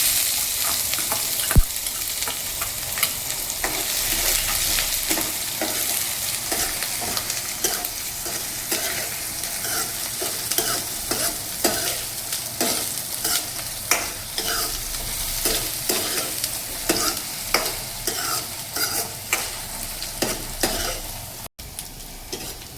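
Onions frying and sizzling in a pan for palak paneer, stirred with repeated scraping strokes, a steady close crackle with regular spoon scrapes throughout and no talking.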